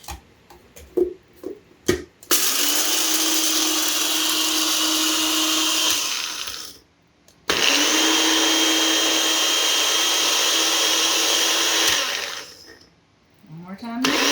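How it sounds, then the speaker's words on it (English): A countertop blender grinds Cheerios cereal into flour in a kitchen, running in two loud, steady whirring bursts separated by a short pause, with a few handling clicks before the first burst. "we're going to grind it up and turn it into the flour"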